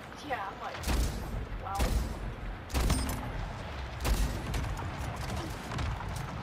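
Rockets fired at the player in the arena shooter Splitgate, several sharp booming launches and blasts spaced a second or so apart under gameplay noise and a voice talking.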